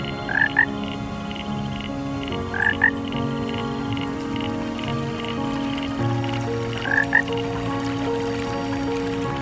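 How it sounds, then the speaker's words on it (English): Giant frogs croak in a dense chorus during an explosive breeding frenzy after heavy rains. Loud, overlapping calls drone steadily throughout, with sharper croaks bursting out every couple of seconds. "this giant frog emerges from the hard-packed earth to engage in an explosive breeding frenzy"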